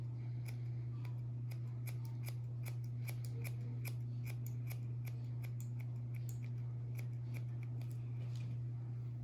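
Scissors snip rapidly through hair in a men's haircut cleanup, a quick irregular series of crisp close clicks over a steady low hum, with no talking.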